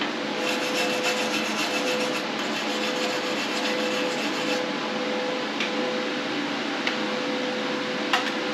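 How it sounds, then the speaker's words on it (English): A small stainless steel wire brush scrubs parts clean in a garage with a continuous rasping, scratchy rub. The sound stays close and even throughout, with a few sharper scrapes standing out. "little stainless brush"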